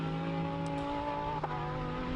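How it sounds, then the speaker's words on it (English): Lamborghini Huracan race car at the Simola Hillclimb, its engine holding a steady, tonal high-revving wail at moderate distance, with a brief shift blip midway. "I absolutely love the sound of that Lamborghini."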